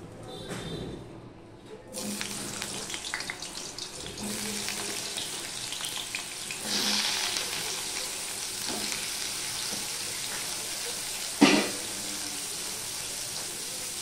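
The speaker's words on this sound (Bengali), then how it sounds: "এবারে যে আমি কেটে রাখা কচুগুলো ভেজে নেব, ফ্রাই করে নেব" Cut pieces of mankochu taro fry in hot refined oil in a pan, a soft continuous sizzle with occasional stirring scrapes and a sharp clatter near the end.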